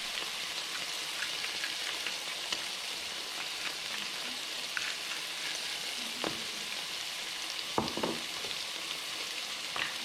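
Seasoned steaks sear in a frying pan with a quiet, continuous hiss and crackle, with a few sharper spits and pops near the end, heard close and without talk.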